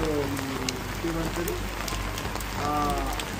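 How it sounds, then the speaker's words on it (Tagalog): Steady rain falls on surfaces in a Kathmandu street as a broad, constant hiss, with people talking over it throughout. "water. Rain."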